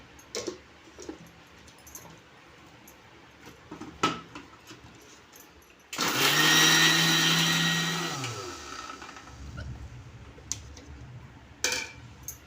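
An electric mixer grinder whirs loudly for about two seconds, grinding dry coconut, garlic and onion for a red chutney, then winds down, with scattered clicks and handling knocks before and after.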